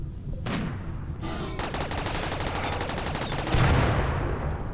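Rapid gunfire in the video game RimWorld, with dense bursts of shots rattling continuously at close range and a heavier thump near the end.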